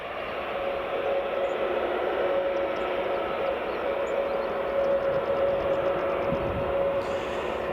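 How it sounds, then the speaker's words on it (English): Aircraft taxiing at Edinburgh Airport, a steady near engine whine with a sustained tonal hum and broadband rumble throughout, no voices. "So WestJet's taxiing."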